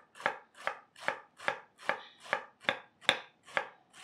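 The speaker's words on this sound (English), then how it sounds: "So now with your knife, we're gonna do some julienne cut." A knife julienne-cuts cabbage into shreds on a board, giving about ten crisp, evenly spaced chops at a steady rhythm, close and clear with no talking.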